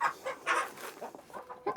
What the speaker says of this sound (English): these are the black copper Marans, and I have one Easter egger here, and this is Clyde, my black copper Maran rooster